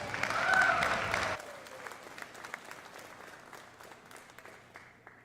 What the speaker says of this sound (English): Let's give Hamilton a round of applause